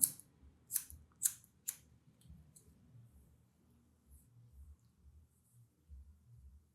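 Scissors snipping through curly hair during a haircut, a few quiet crisp snips close together near the start, then a faint low rustle with no talk.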